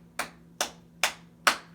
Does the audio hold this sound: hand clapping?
yes